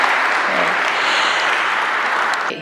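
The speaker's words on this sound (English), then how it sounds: "So if you please give them a round of applause" Audience applause fills a church during a conference session, a steady dense clapping of a sizable crowd that fades out at the end.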